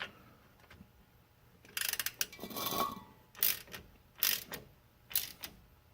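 A 1/2 inch wrench ratchets on differential cover bolts, sharp clicking ratchet strokes in short bursts with pauses between, close and fairly quiet.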